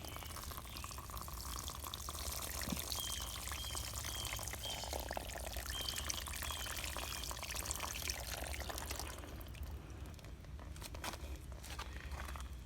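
Soluble fertilizer mixed with water pours steadily onto fig trees, a continuous close splashing wash that runs for most of the stretch before thinning out near the end.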